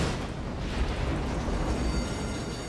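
Naval guns firing in the World of Warships game, a sustained deep rumbling blast that fills the whole clip, loud and dense with booming low-end, with no voice heard.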